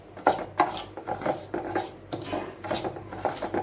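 Semolina (rava) roasting in ghee in a pan over a low flame for rava laddu, heard as close, repeated rasping scrape-and-stir strokes in an uneven rhythm, with no talking.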